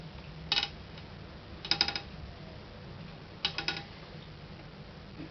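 Three faint crisp crunches as egg-free chocolate hazelnut cookies are handled, short crackly bursts spaced a second or so apart over a quiet background hiss.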